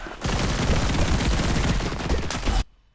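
Sustained barrage of plasma rifle and swarm launcher fire in the ADACA video game, dense overlapping shots rattling continuously for over two seconds before cutting off abruptly into near silence.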